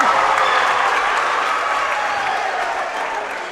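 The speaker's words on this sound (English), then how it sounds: "the crowd is going to go wild" A junior high basketball crowd in a gym cheers and applauds after a made free throw, a loud sustained wave of clapping and shouting that fades slightly toward the end.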